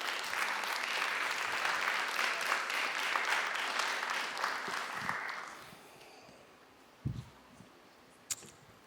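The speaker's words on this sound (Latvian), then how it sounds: "Paldies vēlreiz, aplausi, brīnišķīgi" Applause at an award ceremony for an adult education prize, a dense crowd clapping loudly for about five seconds before fading out into quiet room noise and a few stray sounds.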